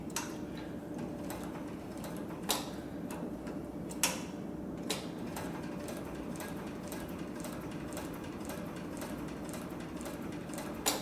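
Steady fine ticking of a cylinder arm triple feed leather sewing machine (CB7341) running stitches at a brisk, even pace, with a few louder clicks over a constant low motor hum.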